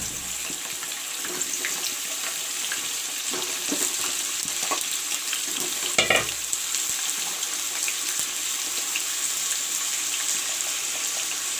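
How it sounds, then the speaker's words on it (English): Pumpkin frying in a pan: a loud, steady sizzle of hot oil with occasional stirring clatter and a brief sharper crackle near the middle, continuous throughout. "Friends, you can see I am putting the pumpkin to fry."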